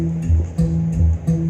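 Palm-muted guitar strings picked in a bluegrass alternate-picking style give four short, thumpy notes in an even rhythm. Each one is clipped and percussive and dies quickly, with no ringing sustain.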